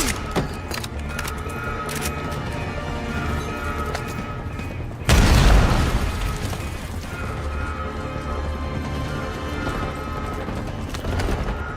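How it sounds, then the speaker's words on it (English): Grenade explosion in the Call of Duty Black Ops 6 game, one loud booming blast that rings out and fades slowly. It sits over a continuous bed of game ambience and mechanical noise, with no talk. "Tossing grenade!"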